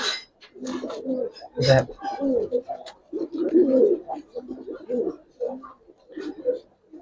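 Giribaz and racer pigeons kept for sale coo nearby in low, repeated, throaty bursts, with short rustles and flutters between calls.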